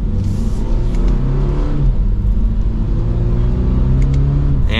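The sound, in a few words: 2022 Toyota GR86 accelerating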